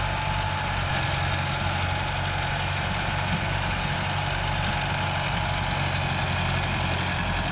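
A Mahindra Arjun Novo 605 DI tractor engine idles on farmland with a steady, continuous diesel rumble and low knocking throb, close and unchanging throughout with no pauses.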